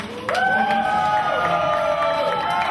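A metal concert crowd in a club cheering and shouting with applause beneath, loud and sustained after a sudden start, with long held whoops and yells standing out over the noise.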